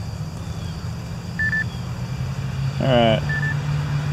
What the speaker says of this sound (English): The alarm is going off.